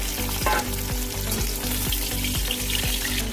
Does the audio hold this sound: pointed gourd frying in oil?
yes